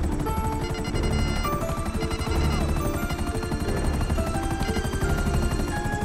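Helicopter in the video game GTA V, its rotor pulsing steadily and loud throughout, a dense continuous chop filling the whole stretch with no talk over it.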